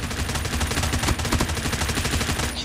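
Rapid automatic gunfire from a Call of Duty match rattles in dense, continuous bursts, loud and close, with no talk over it.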